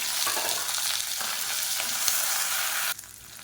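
Whole small shallots frying in oil with curry leaves for a kulambu, a constant crackling sizzle with a few spatula stirs, fairly close and steady before dropping quieter near the end.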